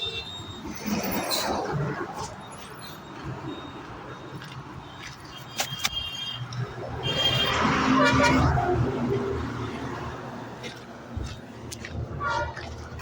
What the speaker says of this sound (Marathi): आता आपण रिक्षातून उतरलो आहे बघा हायवे आहे